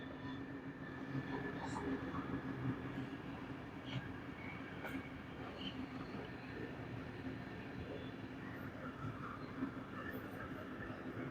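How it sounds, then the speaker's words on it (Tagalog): A train passes alongside a river, heard as a faint, steady low rumble with a continuous hum that holds through the whole stretch under light outdoor background noise. "Here is the train, everyone,"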